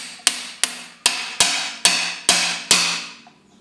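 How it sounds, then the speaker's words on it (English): A hammer strikes a drift seven times at a steady pace, sharp metallic taps driving a plug into a BMW ZF320 gearbox, each blow ringing briefly, close and clear with no talk. "you're going to want to hammer the plug down in"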